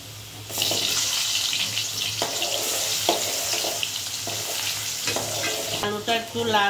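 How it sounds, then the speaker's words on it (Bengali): Potatoes fry in oil seasoned with panch phoron, a steady close sizzle broken by repeated scraping stir strokes of a spatula in the pan, with no talking. "আলুটা একটু লাল করে ভাজা হোক"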